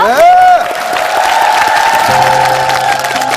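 Studio audience applause on a Korean talent show, a dense, steady wash of clapping with some cheering, heard together with a sustained musical or sung tone.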